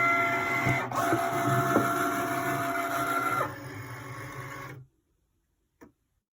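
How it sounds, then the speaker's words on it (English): A Cricut cutting machine works on a design for an Infusible Ink mug with close, whirring motor passes and mechanical clicks that shift pitch, then stops abruptly, leaving silence broken by one short click. "you hit your Cricut button, and it will start to do its thing"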